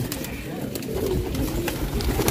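Pigeons in a loft, including a brooding pair on eggs, cooing continuously at close range with soft rolling coos over a low rustle, no clear talk.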